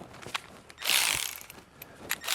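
A ratchet fitted with a 10 mm socket turns on a Hyundai Elantra engine, quick clicking pawl ticks with a short burst of whirring spin in the middle, close and fairly quiet.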